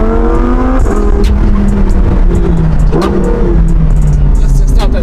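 Engine drone of a Lamborghini Huracan Performante driving slowly, loud and close from inside the cabin with shifting tones as it rolls along, while someone talks over it.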